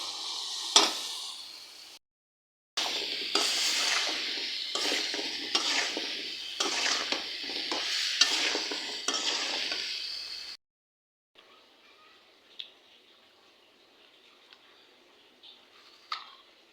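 Hot oil tempering sizzles in a pan during cooking of Bengali dishes, starting with a few clinks, then a loud, steady fry with stirring scrapes for several seconds, fading to faint crackles and occasional taps.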